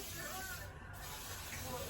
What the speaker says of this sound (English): I go back with this spray, just shining spray, and just go all over your hair